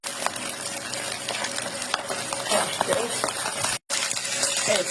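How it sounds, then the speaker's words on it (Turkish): Minced meat with onion and potatoes stirred in a pan, steady scraping and stirring with light sizzling close by, under a voice talking, with a brief dropout of sound near the end. "Şimdi soğan ve patatesi ilave edelim. Karıştıralım."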